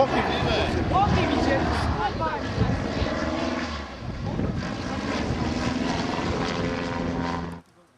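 A small propeller airplane flies low overhead, its drone loud and steady for most of the stretch, with voices and other outdoor sounds underneath before it cuts off abruptly near the end.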